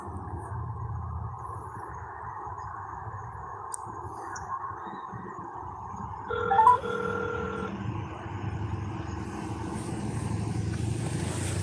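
An outgoing telephone call rings on the line, a steady repeating ring tone over a low background hum that is followed by a brief burst of a different tone partway through.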